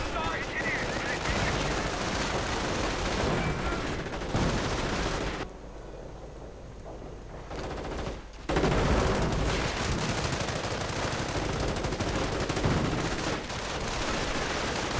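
Heavy machine guns rattle in long, dense bursts in a World War II strategy game, loud and continuous apart from a short lull midway, layered with other battle gunfire.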